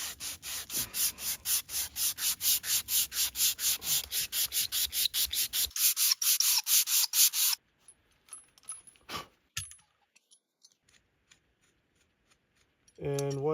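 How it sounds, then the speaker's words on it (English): Emery cloth rubbed by hand over a pipe to clean it before hot tapping, a steady run of fast, rhythmic scrubbing strokes close by for several seconds, then quiet with a few light clicks and handling noises. "I have some emery cloth."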